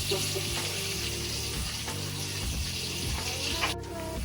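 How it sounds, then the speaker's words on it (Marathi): Onion frying in a pan until brown for paneer butter masala, giving a steady, close sizzle with faint scraping and stirring ticks throughout. No voices. "हे चांगलं मी कांदा ब्राऊन होईपर्यंत चांगलं परतणार आहे"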